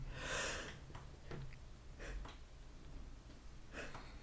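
A single short sneeze bursts out at the start, soft and fairly close, followed by faint breathy sounds in an otherwise quiet room.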